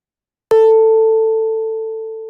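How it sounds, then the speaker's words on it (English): A computer-simulated plucked string from a digital waveguide physical model sounds one sharp attack after a short silence, then a pure, steady tone that sustains and fades very slowly, alone and loud. "this is the sound produced by this simulated string."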